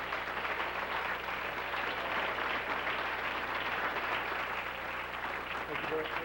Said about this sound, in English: If we could give them a nice round of applause for their staff.